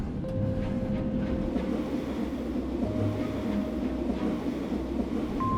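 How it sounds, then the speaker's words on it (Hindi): A passenger train runs loudly at a steady pace, its heavy rumble filling the space near a carriage door, with faint tonal whines and squeals riding over the continuous roar. "रेलगाड़ी जोरदार आवाज करते हुए चल रही है"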